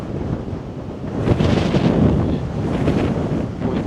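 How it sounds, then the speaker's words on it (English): Strong wind on an open Appalachian Trail mountain top buffets the microphone in loud, rushing gusts that swell and ease over a few seconds, with no voices heard. "the full force of the wind up here."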